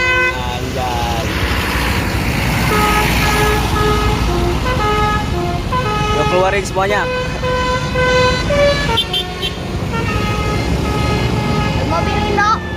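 Indonesian bus with a Basuri telolet horn playing rapid melodic multi-tone toots, loud and repeated amid road noise, with people talking and cheering over it.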